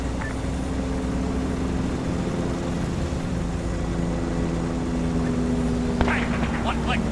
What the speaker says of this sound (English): Helicopter, 700 meters,